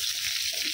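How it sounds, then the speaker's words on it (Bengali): Potatoes frying lightly in a pan give a steady, soft broadband sizzle that stays even and continuous throughout, with no voices. "এখানে আমি একটু আলুটাকে হালকা ভাজা ভাজা করতে দিয়েছি"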